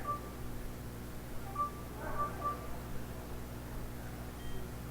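A few short electronic beeps from an NFC card reader, soft and brief, over a steady low background hum.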